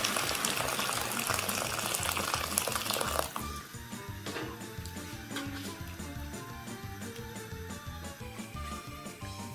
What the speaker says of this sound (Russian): Наливаю воду и ставлю тушиться до готовности мяса.